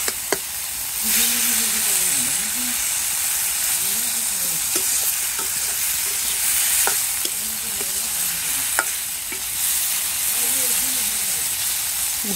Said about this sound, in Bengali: যে সবজিটা একটু কষিয়ে নিই